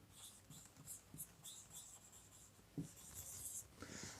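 Marker or chalk scratches continuously across a board during an English grammar lecture, with short strokes and taps, faint and close, and no voice heard over it.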